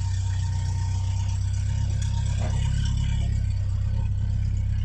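A 1971 Toyota Celica TA22 engine runs with a steady, loud low rumble as the car moves under its own power, a continuous close throb with no speech.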